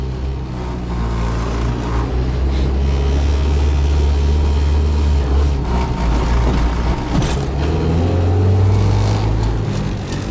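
A car engine revs hard and steadily while the driver tries to get it into first gear, clutch likely slipping; the loud, continuous droning holds throughout with a rising pitch near the end, no talking.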